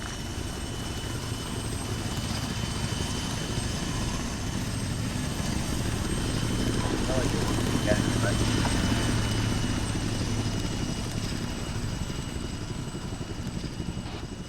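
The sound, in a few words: aircraft taking off from a runway in the video game Arma 3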